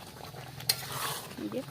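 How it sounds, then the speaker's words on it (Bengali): Meat browning with spices in a pot for biryani, a soft sizzle with one sharp utensil scrape and some stirring, close by, with a brief word spoken at the start. "মশলার সঙ্গে ভালোভাবে কষিয়ে নেওয়া হচ্ছে"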